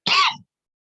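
A single short, harsh cough or throat clear from a person, loud and close, ending abruptly into silence.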